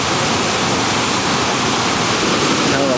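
A great big waterfall on an Alaska road trip roars with a steady, loud, dense rush of falling water and spray that fills the whole clip without a break.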